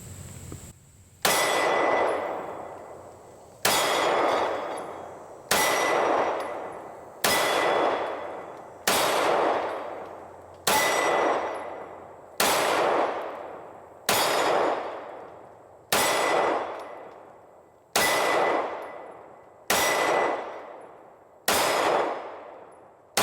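Twelve shots from a non-ported Echelon 4.0c pistol strike a small steel plate at a range. Each is a sharp crack followed by a ringing metallic clang that fades, spaced about two seconds apart.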